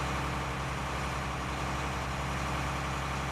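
A steady low engine drone from an American John Deere 8R tractor driving in a farming video game, constant and close with a deep rumble and no break over the few seconds.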